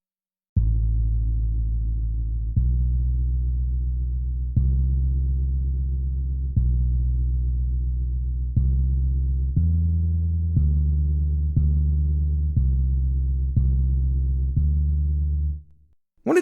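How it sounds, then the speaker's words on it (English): A virtual tongue drum, run through distortion and played as an electric bass patch, plays a slow series of deep, thumping sustained bass notes, evenly spaced and then quickening, in an otherwise silent background. "Here we have an electric bass patch, with the tongue drum being processed through some really cool distortion to give it a kind of low-end thump"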